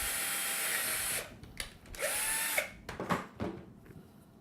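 A power drill bores into a doll head in short bursts, revving loud then stopping, with a few pauses and handling knocks between runs.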